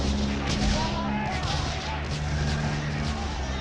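Gunfire breaks out in a First World War battle scene: a dense, rumbling fusillade of shots and distant booms sounds moderately loud over a low background drone, with no clear talking.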